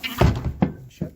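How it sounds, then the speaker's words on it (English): Barn door on a calving farm being shut: a few heavy wooden thunks and knocks in quick succession, close and fairly loud, over about a second. "I'll shut this door."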